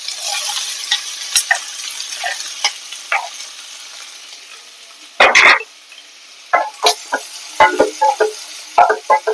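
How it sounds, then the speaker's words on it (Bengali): Chopped onions drop into hot oil and sizzle, with sharp bursts of frying and stirring scrapes coming in irregular clusters, loud and close, with no talking. "তেলটা গরম হলে এবার এর মধ্যে পেঁয়াজ কুচো দেবো"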